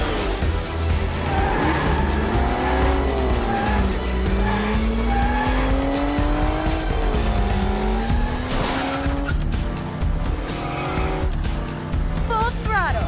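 Cartoon Hot Wheels race cars roar past at speed with screeching tire squeals and skids, engines rising and falling in pitch through a loud, busy race scene that runs continuously.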